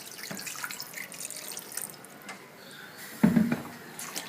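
Water pours into a pan of pepper chicken being cooked with a little oil, a short splashing burst near the end after quieter kitchen handling sounds.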